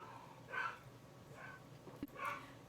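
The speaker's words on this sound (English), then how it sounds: "You might be able to hear Freya barking down there." A dog barks a few times at a distance, muffled short yaps spaced out with brief gaps between them.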